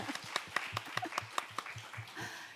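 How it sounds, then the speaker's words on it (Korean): An audience at a talk concert on unification education claps quietly in a brief, evenly paced burst of about ten claps. The applause sounds fairly distant. "이렇게 말씀하면 보통 박수를 쳐주시는데"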